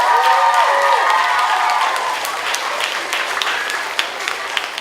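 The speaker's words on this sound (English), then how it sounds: "Another round of applause for a ball in the house" A school assembly crowd on the first day of middle school claps steadily and cheers, with a few whoops rising above the dense applause, which eases slightly toward the end.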